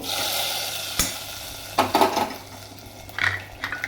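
Hot tempering of garlic and red chili fried in oil and poured into a pot of dal, a loud close sizzle followed by stirring and clinks of a metal pot and spoon.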